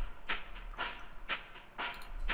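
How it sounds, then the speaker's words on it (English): Heavy hi-hat percussion loop built for a dark, bouncy beat: five bright, hissy hits land at a steady, even pulse, close and moderately loud with no voice over them. "I call this one heavy hats just because it sounds like some heavy hats."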